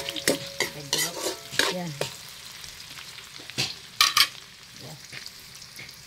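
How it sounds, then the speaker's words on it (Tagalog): Onion and garlic sautéing in a pan, with soft sizzling under repeated scraping stirs of a utensil against the pan, fairly close and moderate in volume, with a brief spoken word. "Nagisa natin ng sibuyas bawang."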